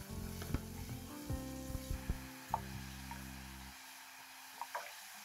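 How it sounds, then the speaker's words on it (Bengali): Whole garam masala tempering with spice paste stirred in hot oil and a splash of water while cooking a Bengali brinjal yogurt curry, giving a soft, steady sizzle broken by a few brief clatters of stirring, with no talking. "ফোড়নটি নেড়ে চেড়ে তার মধ্যে মশলার পেস্টটি দিয়ে দেবো এবং একটু জল দিয়ে ভালো করে মশলাটা কষিয়ে নেব"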